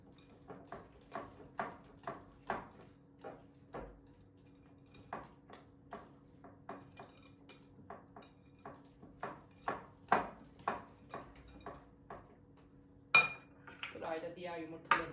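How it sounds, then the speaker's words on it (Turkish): Eggs are mixed thoroughly in a bowl for a San Sebastian cheesecake, with a whisk or spoon striking the sides in a steady run of close, rhythmic clinks. A voice comes in near the end. "Yumurtayı iyice karıştırmam gerekiyor."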